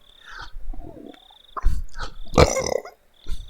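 A person lets out a low, gurgling belch, one short burst within a string of brief throaty sounds, heard close and fairly loud against a quiet background.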